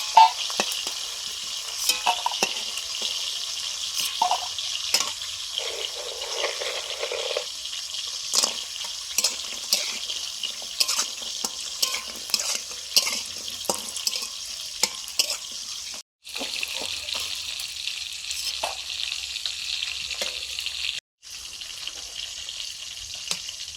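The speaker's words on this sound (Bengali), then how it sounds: "বড়িগুলো ভেজে নিচ্ছি এগুলো মুসুর ডালের বড়ি" Lentil dal bori dumplings fry in hot oil in a pan, a continuous bright sizzle with crackles and occasional stirring clinks, close and steady throughout.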